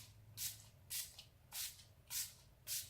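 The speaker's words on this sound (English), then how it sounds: "for setting spray, I am gonna be using my Milani Make It Last setting spray" Five quick hissing spritzes of a spray bottle, evenly spaced and close by.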